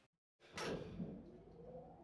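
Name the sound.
elevator doors sliding shut, from a video game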